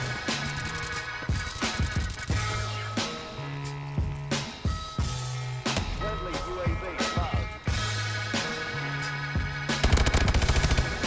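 Rapid bursts of KF5 automatic gunfire in Call of Duty: Advanced Warfare, loud repeated volleys with short gaps between them, mixed with game sounds and a player talking over parts of it.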